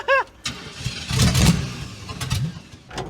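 Chevrolet Camaro budget drift car engine cranks and briefly catches with a rough rev, then dies out, close and loud, with excited voices talking over it.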